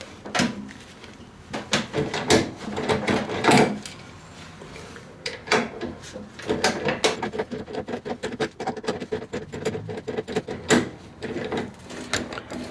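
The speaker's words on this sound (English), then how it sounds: "So we'll put the uh, ratchet on the right side and I've got the box wrench on the left side and we'll give it a shot here." A ratchet and box wrench work on the slider bolts of a Ski-Doo R-Motion snowmobile suspension, giving off quick irregular metallic clicks and taps in uneven bursts, close and moderately loud.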